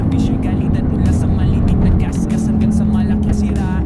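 A Mitsubishi Lancer's carburetted engine roars and revs loudly nearby, its drone rising and falling while someone talks over it; a noisy bearing is heard.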